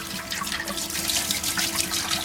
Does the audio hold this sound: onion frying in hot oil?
no